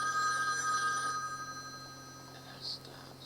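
Telephone ringing nearby, a steady electronic ring that fades after a second with a brief chirp later.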